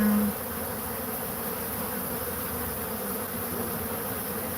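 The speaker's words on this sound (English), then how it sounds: "So, a little bee action for you." Bees buzz steadily against a window screen, a dense, continuous close-up drone that holds without pause from start to finish, with no talking.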